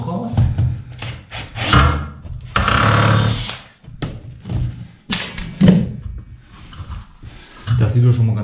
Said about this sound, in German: Dafür brauche ich den kleinen Bruder von der Säbelsäge.